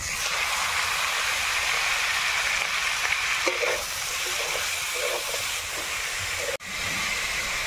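Raw washed chicken pieces hit a hot pan of softened onion with ginger and garlic paste for chicken chowmein, giving a steady loud sizzle and hiss with light stirring scrapes, broken by one brief pause near the end.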